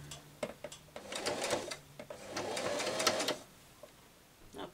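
A sewing machine stitches ankara fabric in slow, gathering runs: short bursts of needle clatter, then longer steady whirring passes with pauses between, close and fairly quiet.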